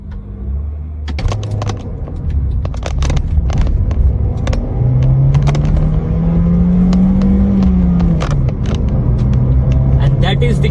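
Third-generation Honda City with an i-VTEC engine starts and revs up, its rumbling idle climbing into a rising whine and falling back, close and loud, with a person talking over it.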